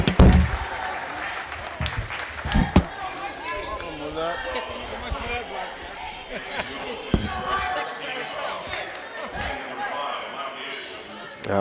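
Crowd noise from a packed high school boys' basketball game, Berean Christian at College Park, with a steady roar of voices, ball bounces and sharp thuds near the mic, while announcers talk over it.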